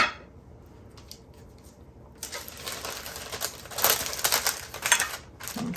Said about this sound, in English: I'm going to wrap the pieces in wax paper